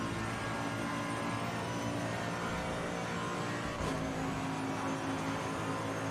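Race car engine in Assetto Corsa Competizione, a loud continuous drone with a dense harmonic whine and a brief break around a gear shift, with no talking.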